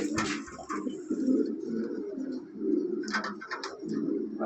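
Red Lahori pigeons in a loft, cooing in repeated low throaty rolls, close and fairly soft, with faint higher chirps in between.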